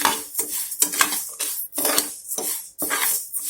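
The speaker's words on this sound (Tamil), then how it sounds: "கொஞ்சம் நல்லா வறுத்துக்கோங்க. ஒரு 2 மினிட்ஸு." Rice being dry-roasted in a pan for black urad dal rice, stirred with a metal spoon that scrapes the pan in steady, repeated strokes about twice a second, close and fairly loud with a faint sizzle underneath.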